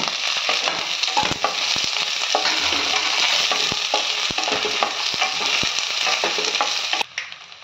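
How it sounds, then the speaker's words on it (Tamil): Onions and curry leaves sizzle steadily in a hot pan for an egg curry, a loud continuous fry with occasional stirring scrapes and taps, no voices. "கொஞ்சம் வெங்காயம், கருவேப்பிலை போட்டுக்கோங்க. இதை நல்லா ஃப்ரை பண்ணுங்க."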